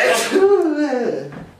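A single sharp sneeze bursts out close by, followed by a short trailing vocal sound.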